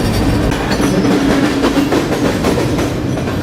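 A freight train rolling past close by, wheels clacking rhythmically over the rails in a loud, continuous rumble.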